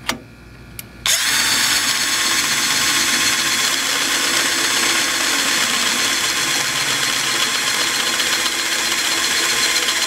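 A power drill bores a hole through a metal clamp in a garage, starting abruptly after a quiet moment and then whining loud and steady close by, with no talking.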